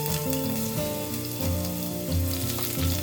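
Ginger, garlic and chopped green chilies frying with cumin and fennel seeds for mutton biryani give a steady, close sizzle throughout, with tonal music playing over it.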